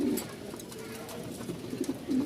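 Fancy pigeons in a Mirpur pigeon market coo softly in low, repeated murmurs across the short stretch, with faint background voices and bustle underneath.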